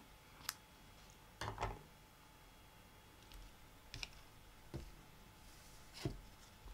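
Scissors cut paper for seaside-themed card making, giving a handful of faint, crisp snips and clicks at irregular intervals against a quiet room background.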